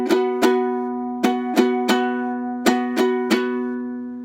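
A ukulele strummed with two strings muted, playing a chord: eight sharp percussive strums in an uneven rhythm, each ringing briefly before the next, close up with no talking.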